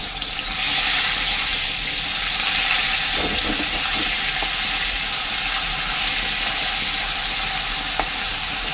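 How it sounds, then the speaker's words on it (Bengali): Tilapia fish frying in oil after being flipped, giving a steady, close sizzle throughout with a brief cluster of scraping clatters in the middle and a sharp click near the end; no talking. "এবারে মাছটা ভাজা হয়েছে আমার এক পিসে, এবার আমি আর এক পাশ পাল্টি করে দেবো।"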